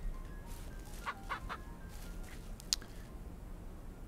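Chickens in the farming video game Ranch Simulator give a few soft, scattered clucks over a steady low background hum, with a sharper squawk near the end.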